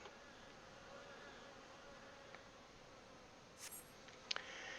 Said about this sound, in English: you hear the chatter of Kikern and the buzzing of syrphids